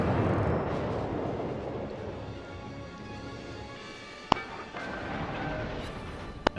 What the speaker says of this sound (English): friendly South Carolina is shooting at him